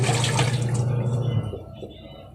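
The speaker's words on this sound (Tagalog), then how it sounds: "Maingay kasi naglalaba si mister." Water splashes and sloshes as laundry is washed by hand, loud and close at first, then fading to softer drips and trickles after about a second and a half.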